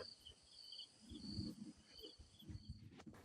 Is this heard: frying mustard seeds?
no